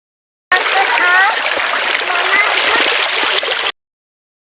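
River water splashes and gurgles as clothes drift away in a children's retelling of the folk tale Bawang Merah Bawang Putih, a loud burst of about three seconds framed by silence, with children's voices mixed in.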